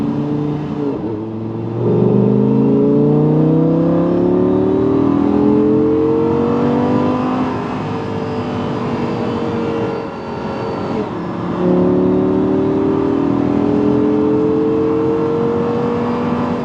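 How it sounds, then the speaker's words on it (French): A car engine switched into sport mode revs loudly and close, its pitch climbing through rising sweeps, dipping briefly, then climbing again with a steady growl throughout. "je vais me mettre en mode sport pour que vous puissiez un petit peu profiter, voilà, le petit son qui va très bien sur cette voiture"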